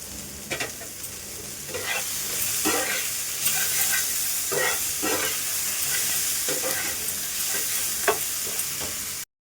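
Steady sizzling of food frying in a pan, with repeated scraping strokes of a spatula stirring at an uneven rhythm, close and fairly loud.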